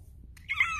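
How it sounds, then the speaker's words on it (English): A small shelter cat gives one brief, high, squeaky little meow, close and fairly soft after a moment of quiet. "Got a squeaky little meow."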